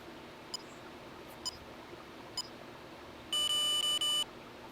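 Texas Instruments TI calculator timer beeping: three short, sharp beeps spaced about a second apart, then a longer burst of rapid, pulsing beeps, all clear over a quiet hiss.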